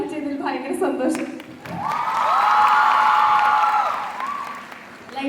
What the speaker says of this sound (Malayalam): ലൈഫിൽ ആദ്യമായിട്ടാണ് ഇത്രയും പേര് ഞാൻ ഇങ്ങനെ വന്നേക്കുമ്പോൾ കൈയടിക്കുന്നത്.